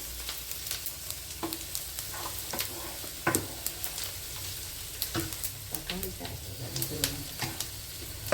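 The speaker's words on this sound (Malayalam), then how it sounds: "ആ ചൂടായ എണ്ണയിലേക്ക് നമുക്ക് പെരുംജീരകം ഇട്ട് കൊടുക്കാം." Fennel seeds dropped into hot oil in a pan sizzle and crackle steadily, with scattered sharp pops and the occasional scrape of stirring, close by; a voice murmurs faintly at times.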